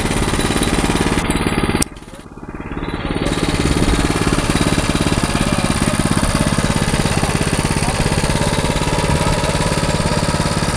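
Small push kart motor running loudly and steadily with a rapid chugging putter, cutting out briefly near the start before catching again and running on alone.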